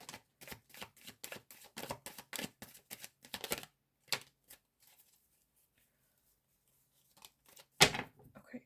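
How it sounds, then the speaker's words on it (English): A deck of tarot cards is shuffled in quick, crisp riffling bursts up close, followed by a pause, then a few isolated card snaps and taps. "I want one more shuffle."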